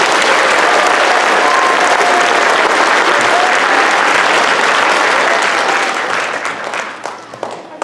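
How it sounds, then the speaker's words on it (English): A concert audience at a spring songwriting show bursts into loud, sustained applause for the custodians, dense clapping that fills the room and tapers slightly near the end. "How about a big hand for the custodians?"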